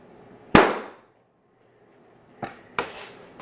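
A Nerf Rival launcher pumped to 150 psi fires one loud, sharp report up close, then a pause before two quieter clicks or impacts follow near the end, with no talking.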